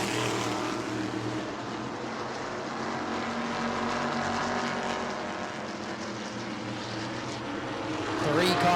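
Race cars at New Smyrna, a close three-car pack, roar steadily past with a sustained engine drone and broadband track noise that swells louder near the end, with a commentator's voice running underneath.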